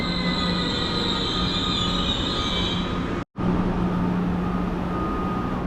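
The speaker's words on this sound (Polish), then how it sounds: "Pociąg królewski, chrobry z lokomotywą EU200" The Chrobry express train, hauled by an EU200 electric locomotive, rolls through Warszawa Centralna station with a loud, continuous metallic wheel squeal and rumble, broken by one instant of silence.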